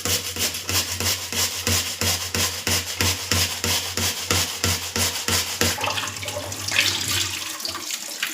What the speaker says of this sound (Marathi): मी आता हे बटाटे खिसून घेते पटपट ह्या खिसणीवरती.